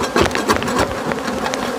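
Honeybees buzz steadily at an open hive, a dense close insect drone with swelling and fading tones and no voices.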